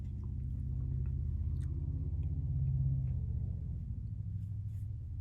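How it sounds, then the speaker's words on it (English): A big truck passes, heard as a deep, steady low rumble that swells to a peak around the middle and then slowly fades away, with no voices. "Big truck goes by"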